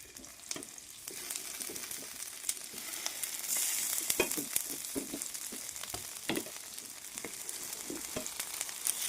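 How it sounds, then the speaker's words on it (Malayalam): Parboiled potato sautés in butter in a pan, giving a steady close sizzle with frequent scraping and stirring knocks throughout, and no one speaks. "ബട്ടറിലിട്ട് വാട്ടിയെടുക്കാം"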